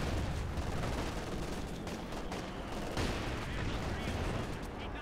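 Penal battalion infantry opening fire in Company of Heroes 2, a dense continuous barrage of rifle and machine-gun shots with heavier booms, loud and unbroken across the whole stretch, with a commentator's voice mixed in beneath.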